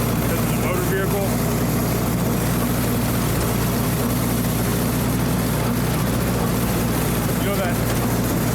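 A 1948 Ford 8N tractor engine runs steadily while brush hogging a pasture, a loud, constant droning roar with wind-like noise, and someone talks over it.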